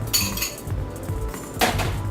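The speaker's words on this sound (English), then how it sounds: "we have our wire whisk. I'm going to mix in our 2 cups of sugar" Wire whisk stirring flour and 2 cups of sugar in a bowl, with close, loud clinking and scraping of metal against the bowl in quick repeated strokes, with no talk.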